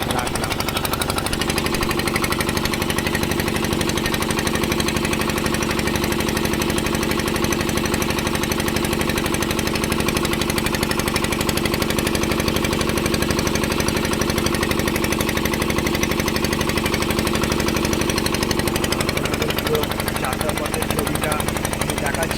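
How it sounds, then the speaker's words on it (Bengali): A passenger launch engine pulls away from a ghat on the Hooghly River at Bauria, a loud, steady, throbbing drone with broad mechanical rumble that runs unbroken the whole time. "বাউরিয়া থানের ঘাট থেকে লঞ্চ ছেড়ে দিয়েছে এবং যাচ্ছে সাউতলা কেয়ারপুর দেশে"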